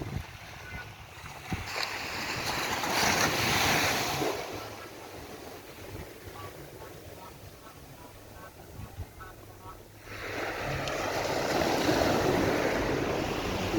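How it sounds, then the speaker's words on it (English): Waves washing ashore at Browns Beach in Carlisle Bay, Barbados, a broad surf rush that swells, eases, then builds again, with wind buffeting the microphone and someone speaking over it. "This is Browns Beach. This is a part of the Carlisle Bay area."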